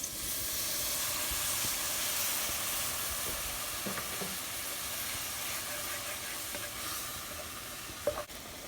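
Milk added to cooked all-purpose flour in a hot pan gives a steady, close hissing sizzle with faint steam, broken by a few soft taps and scrapes of stirring near the end.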